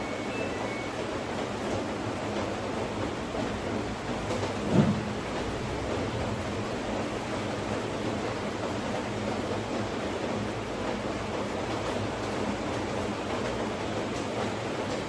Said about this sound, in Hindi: ऊपर से बारिश की इतनी तेज़ आवाज़ आ रही थी